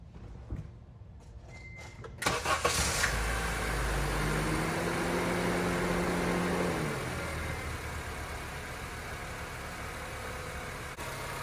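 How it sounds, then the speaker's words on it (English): A 2006 Honda Civic engine cranks over with a brief starter whir, catches and settles into a steady, fairly loud idle that continues close by to the end. "Now I'll just start the car and let it warm up."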